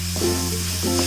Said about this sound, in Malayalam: ഈ ടൊമാറ്റോയും കൂടി ഇതിലേക്ക് ഇട്ടിട്ട് ഇളക്കാം.